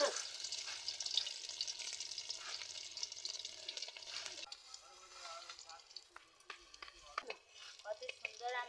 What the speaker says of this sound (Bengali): কেটে রেখেছিলাম ডিমগুলো আমি তেলের মধ্যে ভেজে নিচ্ছি